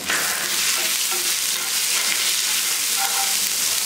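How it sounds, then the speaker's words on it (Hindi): Grated ginger dropped into cumin seeds sputtering in hot oil, making a dense, steady, loud sizzle with faint crackles throughout and no voices, heard up close. "जीरा हमारे यहाँ पे अच्छी तरीके से स्प्लटर हो चुका है, तो अब मैं इसमें डालूंगी अदरक।"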